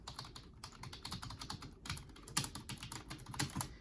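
Keys on a Bluefinger computer keyboard being typed on, a rapid, continuous patter of soft clacks at close range with a few louder strokes and no voices.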